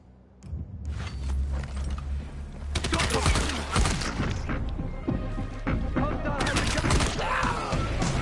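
Gunfire and crashing impacts in the video game Dying Light The Beast, a dense stretch of shots, thuds and smashes lasting several seconds, loud and close, with a voice occasionally talking over the action.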